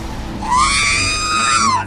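A prolonged, drawn-out scream from a character in Final Fantasy XIV, rising and holding a high pitch for over a second before fading, loud and close within game sound.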